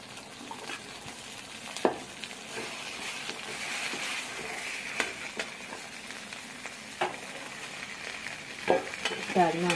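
Rajma tipped into a pan of frying masala and peeled potatoes, sizzling steadily while a spoon scrapes and stirs, with several sharp clanks of the utensil against the pan.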